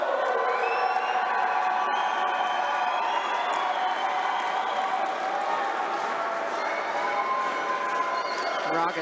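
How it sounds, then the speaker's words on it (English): A roller derby crowd roars with sustained cheering and shouting, a dense, loud wash of voices filling the venue throughout, with scattered whistles and calls rising above the steady din. "I'm sure you can hear the ambient noise, right? And you can see everyone getting up onto their feet to cheer for this"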